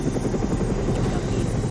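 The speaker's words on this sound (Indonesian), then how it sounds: "Simon langsung menaiki helikopter untuk segera meluncur ke lokasi." Helicopter in a disaster film, rotor chop and turbine whine thudding steadily, loud and close, with no voices.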